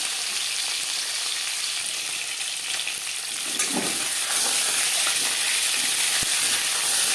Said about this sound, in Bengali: জ্যান্ত মাছ আমি একটু হালকা করে ভেজে নেব।